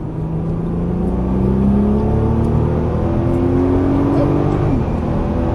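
A Ferrari 458 Italia or Nissan R35 GT-R sports car accelerates on the race track at ExoticsRacing Las Vegas, its engine note loud, close and continuous, pitch rising steadily as it pulls through the gears.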